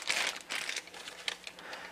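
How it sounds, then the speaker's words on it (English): Crinkling plastic bag as a water spout for an AlkaViva Athena JS 205 water ionizer is pulled out, several short rustling bursts close by. "Let's take a minute and remove it from the bag."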